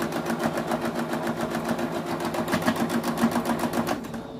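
A sewing machine stitches a large drawstring bag, running in a steady rapid mechanical rhythm at close range, then slowing to a stop.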